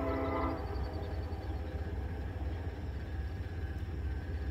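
A CN southbound freight led by an EMD locomotive passes near Ladysmith, a steady low rumble of rolling rail cars with a short horn tone at the start, heard without talk.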